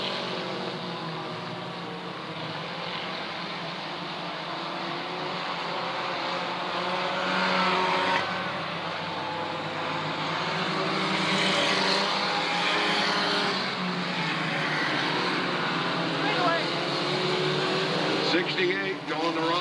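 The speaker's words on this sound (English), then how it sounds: "Going the wrong way on the back straight, Larry Williams." Race cars roar steadily around the oval at Southern Oregon Speedway, a continuous engine drone that swells and fades as the pack passes, heard at a distance beneath a track announcer's commentary.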